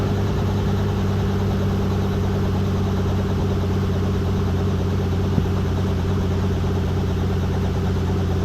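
A helicopter engine held at high RPM during cool-down after landing at NOLA Motorsports Park, a steady, loud, close turbine drone with a low hum that stays level and unbroken throughout, with no talk.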